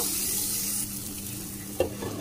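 Tilapia fillet for a homestyle barbecue sizzles in an oiled pan just after being flipped, a close steady frying hiss with one sharp clack of the utensil near the end, no talk.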